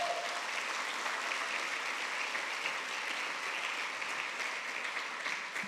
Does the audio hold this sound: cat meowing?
no